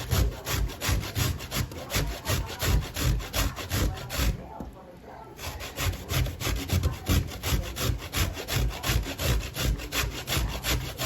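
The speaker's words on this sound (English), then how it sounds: "I am grating the sweet potato" Sweet potato is scraped against a grater in fast, even back-and-forth strokes, close and loud, with a brief pause midway before the rhythmic rasping resumes.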